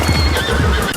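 A horse in the video game, ridden by a man challenging another rider to a race, gives a loud whinny over clip-clopping hooves, close and continuous for about a second.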